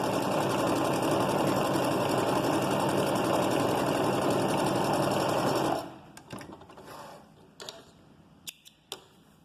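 Sewing machine running a quick overcast stitch along a fabric edge to stop fraying, a steady, fast mechanical whir for several seconds that then stops, followed by a few light clicks and handling sounds.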